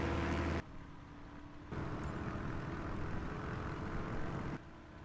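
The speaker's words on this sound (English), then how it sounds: "All right, drifting my plane a bit round." A small airplane manoeuvring on the ground drones steadily at a moderate distance, its engine note holding fairly even with abrupt shifts in level.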